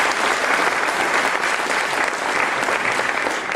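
Sustained audience applause at a Gujarati song CD launch event, a dense, even wash of many hands clapping that runs loud and steady for the whole few seconds with no talk over it.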